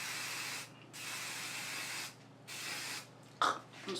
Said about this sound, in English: I'm gonna spray this outside.